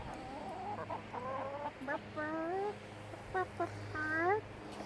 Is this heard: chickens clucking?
yes